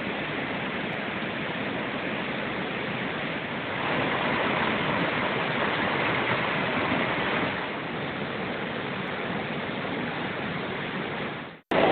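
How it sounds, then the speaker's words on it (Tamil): Heavy floodwater thundering down the Courtallam falls after continuous hill rain, a loud, unbroken roaring rush close by that swells midway and then cuts off abruptly at the end. "வெள்ளம் அதிகமாக இருக்கிறதுனால தண்ணி ரொம்ப ஃபோர்ஸாக விழுந்துட்டு இருக்கு"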